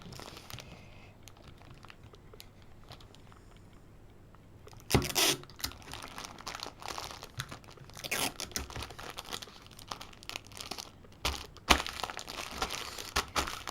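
Crinkling and tearing of a package being sealed with crochet work and a small card inside, quiet at first, then a burst of crisp rustling and intermittent crunches, close and without talk.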